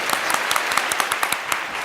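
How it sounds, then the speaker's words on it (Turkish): Applause from a TV game show studio audience, many hands clapping steadily with sharp individual claps standing out, fairly close and loud, for about two seconds. "Alkışı da hak ediyorsunuz yani."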